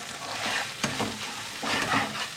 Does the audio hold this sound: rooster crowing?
no